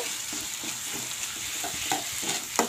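Onion and dried Sidol fish frying with turmeric in a pan for a chutney, a soft steady sizzle broken by quick, rhythmic scraping stirs, close and free of speech.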